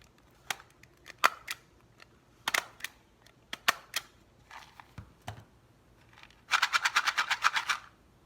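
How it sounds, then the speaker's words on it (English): Stapler punching shut the top of a homemade paper shaker holding beans or macaroni, a scattered series of sharp clicks and snaps, then a fast burst of about a dozen rapid clacks near the end, close and clear with no talk. "I'm going to squeeze it the opposite way and staple the top"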